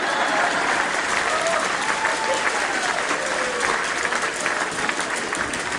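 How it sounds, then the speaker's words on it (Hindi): An audience at a live Hindi comic poetry show bursts into applause, a dense continuous clapping from a large crowd, loud and sustained throughout. "ताली बजाओ"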